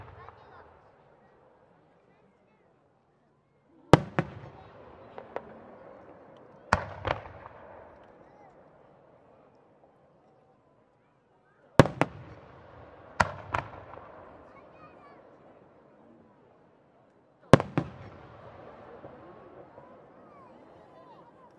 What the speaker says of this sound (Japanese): 新入りという花火をご覧いただきましょう